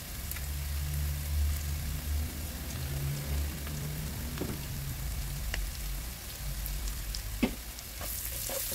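Coriander powder sautéing in a pan for chicken gizzard and liver adobo, a steady soft sizzle with faint crackles and a sharp pop near the end, no voices.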